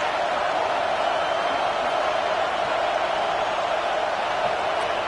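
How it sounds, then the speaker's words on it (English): A college football stadium crowd sends up a constant, even wash of roaring noise throughout, with no breaks or peaks. "This crowd going to try to make life miserable for these guys."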